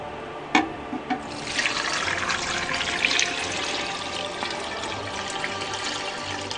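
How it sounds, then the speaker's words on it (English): Water runs steadily from a tap into a pot of seasoned meatballs for a ragout, a continuous close splashing hiss with a couple of brief knocks near the start. "when all your little meatballs have been seasoned a little bit, you're going to cover them with water."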